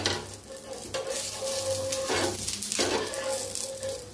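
Dosa roasting on both sides on a hot pan, a steady close sizzle with soft scraping, joined by a faint sustained hum throughout.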